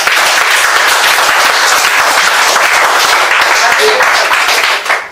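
Dense, loud applause from a large group at a 2011 retreat, steady and sustained, with crowd noise mixed in, tapering off near the end.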